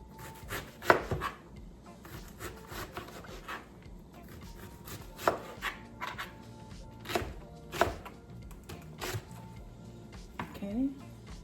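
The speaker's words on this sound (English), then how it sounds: "I'm gonna cut this in little strips" Knife slicing through raw chicken on a cutting board into thin strips for chili, sharp irregular chops and taps spaced through the clip with soft rubbing sounds between, under a talking voice.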